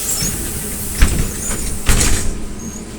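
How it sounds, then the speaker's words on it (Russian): Doors of an AKSM-321 trolleybus close with two heavy thumps about a second apart over steady cabin rumble. "Осторожно, двери закрываются."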